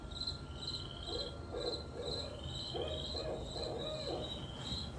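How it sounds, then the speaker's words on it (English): A barred owl calls its rhythmic 'who cooks for you' hooting series from a distance at night on a nature trail, repeated over a steady backdrop of high chirping crickets. "That's the call of the barred owl."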